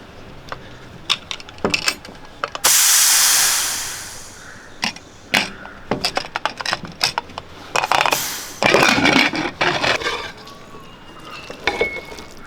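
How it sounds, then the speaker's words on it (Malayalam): A loud, sustained hiss of steam bursting out of a pressure cooker holding rasam rice, accompanied by scattered metallic clicks and clatter, with a second hissing surge later. "ഇനി ഇതൊന്ന് ആവി പോയിട്ട് നമുക്ക് തുറക്കാം"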